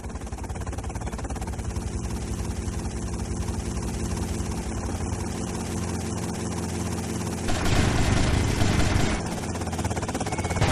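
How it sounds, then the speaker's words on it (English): A helicopter in the video game GTA Vice City gives a steady, droning rotor and engine hum that runs throughout and swells louder for a few seconds partway through, with no voices. "Oh my God, they've got a helicopter!"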